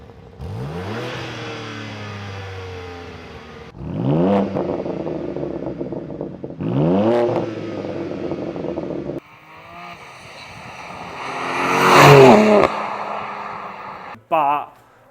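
A BMW S58 engine on a G87 M2 or G80 M3 revs repeatedly through a Milltek OPF-back exhaust, four loud rising sweeps building to a harsh peak before cutting off abruptly, close and dominant.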